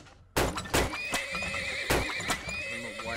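Horses in the oil-drilling game Turmoil: a sharp, close whinny rises after a brief quiet and repeats in short, loud neighs over a couple of seconds.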